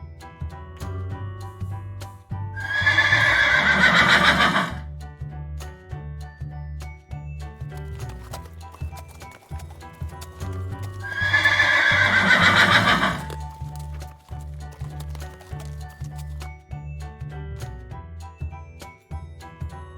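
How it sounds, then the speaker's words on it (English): Two loud horse whinnies, each lasting about two seconds and spaced roughly nine seconds apart, ring out over a steady, rhythmic clip-clop of hooves with a soft musical backing throughout. "Horse."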